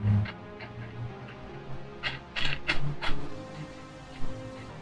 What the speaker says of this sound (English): now I'm gonna put the nut. Washer. Nut.